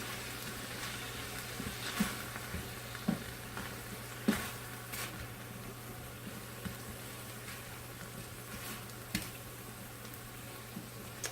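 Spicy chicken stir fry sizzles softly in a pan as it is stirred, a steady low hiss broken by a few sharp clicks and scrapes of the utensil against the pan.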